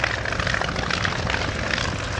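A vintage aircraft engine throttled back at the Old Warden airfield gives a continuous rough, throbbing roar that stays loud and steady throughout, with no voices.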